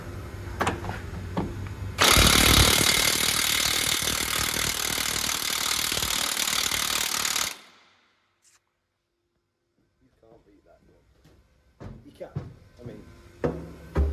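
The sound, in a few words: Milwaukee 1/2-inch battery impact gun undoing spring pin bolts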